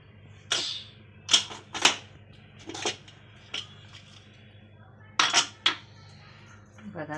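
A pressure cooker lid is opened after the cooker has cooled from cooking soybean masala rice. About eight sharp metallic clanks and clinks come at uneven intervals, fairly close and distinct.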